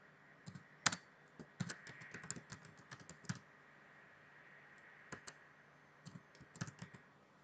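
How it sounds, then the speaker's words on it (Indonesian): Computer keyboard typing in quiet bursts, a run of rapid keystrokes followed by a pause and a few more scattered clusters of clicks, close and soft with no voices. "Misalnya saya ketikkan gini"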